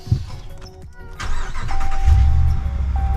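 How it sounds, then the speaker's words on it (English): A 2019 Ram 1500 pickup truck engine cranks and starts, then settles into a steady, fairly loud idle with a low rumble and a faint high whine. "Start it up really quick."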